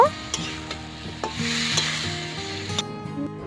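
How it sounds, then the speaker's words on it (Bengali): Vegetables with salt and turmeric being stirred in a frying pan for a drumstick and bitter gourd chorchori, with repeated spatula scrapes and knocks over a steady sizzle; no one talks. "সব কিছু খুব ভালো করে নেড়ে নিয়ে মিশিয়ে নেব"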